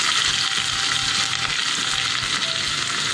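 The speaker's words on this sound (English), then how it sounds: "Mustard seeds have started crackling, and to that I'm adding crushed garlic and green chilies" Mustard seeds crackling in hot oil with crushed garlic and green chilies frying, a loud, dense, continuous sizzle heard up close.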